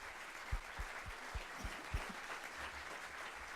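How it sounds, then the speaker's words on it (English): Applause from a conference audience after a diversity and inclusion panel, a steady wash of clapping at moderate distance with a few heavier thumps near the start. "let's give our panel a round of applause"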